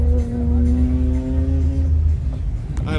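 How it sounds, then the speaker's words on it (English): A race car at the Hyperfest car event hums with a steady droning engine note, moderately near, holding at one pitch before fading, with a brief tonal squeal near the end. "Got some racing going on."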